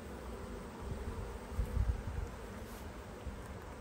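Steady, low buzzing of many honey bees during a hive inspection fills the space, with a slight swell in the middle.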